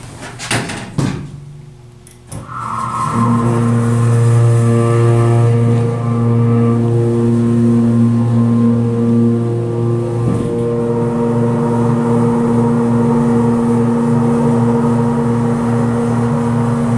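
A Schindler MT hydraulic elevator in an office complex starts up after a few clunks and runs with a loud, steady droning hum and whine that persists close and unbroken for the rest of the clip.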